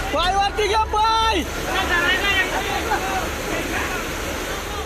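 Rushing floodwater roars steadily at Dugarwadi waterfall during heavy rain, a loud continuous wash that sits beneath shouting and excited voices from a crowd.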